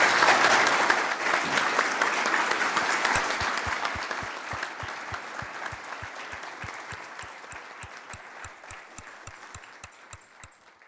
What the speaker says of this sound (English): Please join me in giving them a hearty round of applause.